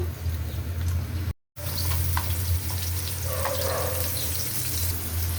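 Oil sizzles in a cooking pot on a home stove during preparation of a radish dish: a steady, close frying hiss that runs the whole time, broken only by one very brief drop-out.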